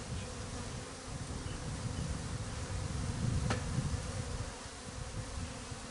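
Worked-up honey bees hum loudly and continuously around an opened hive, a thick close buzzing swarm with one bee darting right past.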